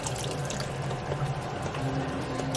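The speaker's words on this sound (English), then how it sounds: "So I added more water." Water running from a tap while cooking in a home kitchen, a steady close splashing stream with small drips and gurgles as the pot fills, continuous and fairly loud with no talking.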